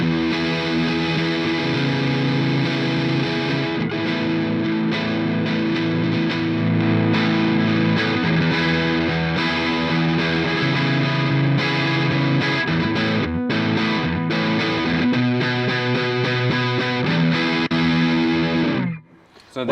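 Overdriven electric guitar through a Mesa Mark V Mini amp in Mark II mode plays loud riffs and sustained chords with a crunchy tone, ending abruptly.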